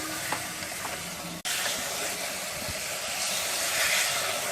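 Mutton with gongura (sorrel leaves) sizzling and being stirred in a pan for Andhra-style curry, a steady close frying hiss that cuts out briefly, then resumes louder and continuous.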